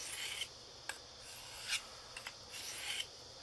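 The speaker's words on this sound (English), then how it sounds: "you want to like lift it up about 15 degrees, and sweep down as you sharpen." A Cold Steel Pendleton Lite knife is sharpened on a natural stone, giving repeated soft raspy sweeping strokes with brief scraping bursts at an irregular rhythm, close and quiet with no talking.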